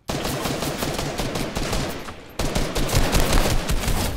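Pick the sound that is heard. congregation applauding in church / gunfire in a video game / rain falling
gunfire in a video game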